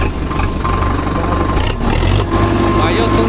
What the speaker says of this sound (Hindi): सुन सकते हैं आप इस ट्रैक्टर के साउंड